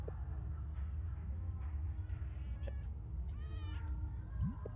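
Cats meow in the video game Until Then, with a few soft, distant mews sitting over a steady low hum of background noise.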